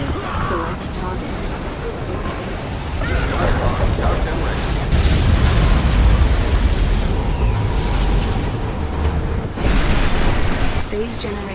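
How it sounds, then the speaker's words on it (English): An ion cannon strike in the real-time strategy game Command & Conquer 3: Tiberium Wars, heard as rolling, rumbling blasts that build and flare again near the end, under bursts of spoken game dialogue. "Ion cannon activated."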